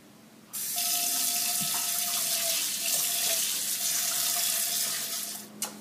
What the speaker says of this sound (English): take it over to your sink and rinse it out with some warm water